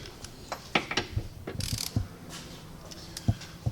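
A torque wrench ratchets Genesis Coupe subframe bolts to 90 foot-pounds, a series of loud, close mechanical clicks in short irregular bursts.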